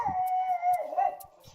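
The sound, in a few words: pug dog howling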